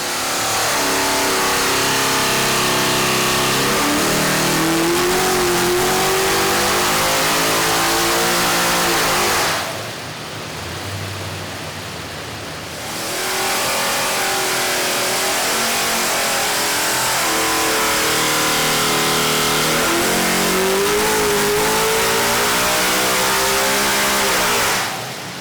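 A nitrous-fed Ford Windsor V8 roars loudly on a dyno at high RPM, sustained wide-open revving with rising harmonics, a brief drop to low idle midway, then another long full-throttle pull.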